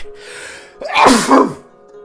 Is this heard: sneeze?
yes